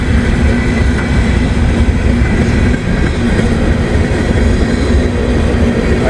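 A short CSX or Norfolk Southern freight train rumbles past at night, a loud continuous roar of wheels and cars close by without clear breaks or talk.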